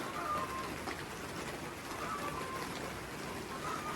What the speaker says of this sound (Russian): Идет дождь